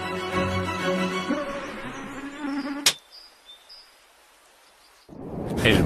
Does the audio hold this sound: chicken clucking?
no